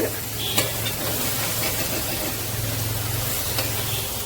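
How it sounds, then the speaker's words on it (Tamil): Ginger and garlic sautéing in a pan, a steady close sizzle and fry hiss with occasional stirring scrapes, continuous throughout with no talking. "நல்லா இஞ்சி பூண்டு நல்லா வதங்கிடுச்சு, பச்சை வாசனை இல்லாத அளவுக்கு வதங்கிடுச்சு."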